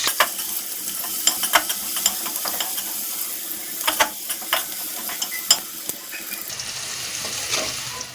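Chopped onions frying in a pan sizzle lightly and close up, broken by frequent sharp clicks and scrapes of a spatula stirring against the pan, with no voices.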